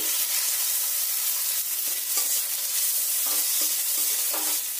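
A pan sizzles loudly and continuously as chopped tomato fries, with a few faint scraping stirs near the end and no talking.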